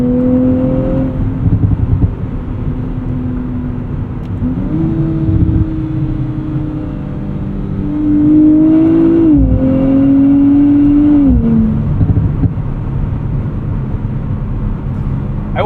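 A 2024 Nissan Z Nismo driven on the road, its engine droning loudly inside the cabin with gear changes and revs rising and falling, plus steady road and tire noise.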